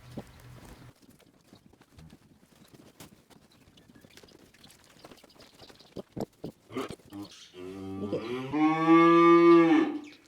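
Cattle on a farm, where calves and cows are being fed candy, give a loud, drawn-out moo near the end, after quiet shuffling and clip-clopping hooves.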